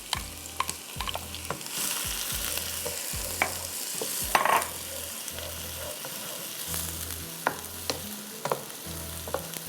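One and a half cups of chopped onions sizzle steadily in a hot pan for an Afghani aloo gosht, with a spoon scraping and stirring them in a repeating rhythm, close and clear, with no talking.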